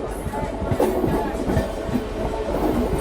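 A local train rolls into the platform at Balgona station with a steady rumble and uneven clacking of wheels, moderately loud and continuous throughout.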